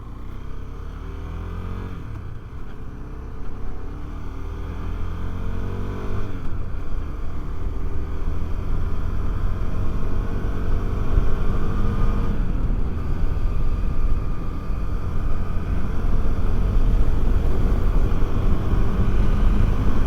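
A 2023 KTM 390 Adventure motorcycle on a break-in ride through twisty roads, heard as a steady engine drone mixed with wind rush, rising and falling slightly as the rider shifts and leans.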